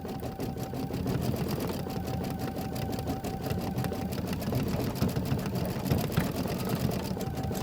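A Kimberbell embroidery sewing machine stitches a quilt block with a rapid, steady mechanical chatter and whir, running continuously and close with no talk.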